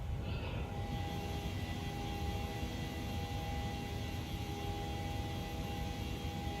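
Steady jet engine drone from a PMDG airliner in Microsoft Flight Simulator 2020, flying from LaGuardia toward O'Hare, a continuous even roar with a faint tonal whine and no talk.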